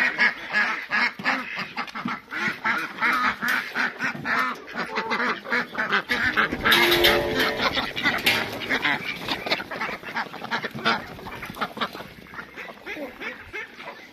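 Ducks and geese on a farmyard at evening feeding time, with corn being given out, quacking and honking continuously and close, with a person talking at times over the flock.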